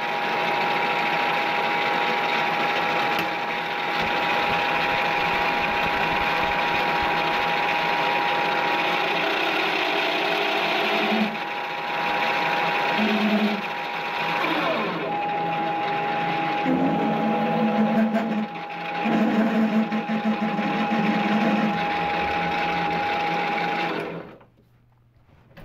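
A machine tool cuts a heavy chamfer on a handwheel, running as a steady loud hum with a continuous tone that dips and shifts midway before stopping abruptly near the end.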